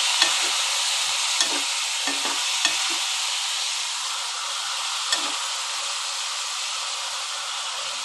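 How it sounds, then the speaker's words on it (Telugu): Prawns frying in a pan over low to medium heat: a loud, steady broadband sizzle that holds for the whole stretch, with a few faint scrapes and clicks of stirring, no talking. "లో టు మీడియం పెట్టి మనం దీన్ని కొద్దిగా ఫ్రై చేసుకోవాలి"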